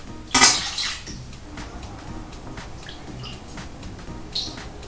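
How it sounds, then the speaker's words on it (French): Water, 400 ml poured in one go onto corn tortilla mix in a large bowl, a short splashing rush with clinks of the bowl, then quieter drips and light taps. "Et nous allons verser aussi les 400 ml d'eau d'une seule fois."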